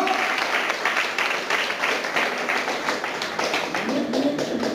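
A church congregation claps steadily and densely for Jesus during a Portuguese-language sermon on the Via Crucis, a continuous wash of many hands at moderate loudness with no clear pauses.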